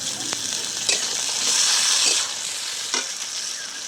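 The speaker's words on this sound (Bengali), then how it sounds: "এবার দিয়ে দিচ্ছি টমেটো কুচি" Chopped tomatoes hit a pan of well-fried onions for a village-style chicken and potato curry, giving a loud, steady sizzle broken by several sharp scrapes and knocks of stirring.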